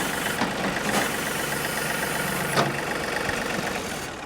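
A John Deere 3 Series compact tractor's diesel engine runs loud and steady at a constant idle-like drone, close and continuous with a few faint knocks, no voices.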